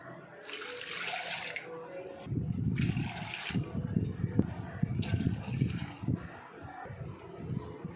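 Water running and splashing into a cooking pot as it is filled for a homemade herbal remedy, a steady pour with short pauses over about six seconds, fairly close with no voices.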